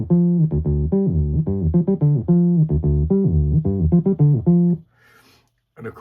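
An old software synth triggered from a MIDI keyboard plays a bright, bouncy run of short sustained notes and chords, loud and close, ending abruptly with a brief faint shuffle before silence.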